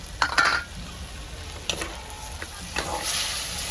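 Chicken drumstick curry sizzles and fries in a pan as tomato is added, with stirring scrapes and steady frying hiss throughout, fairly close.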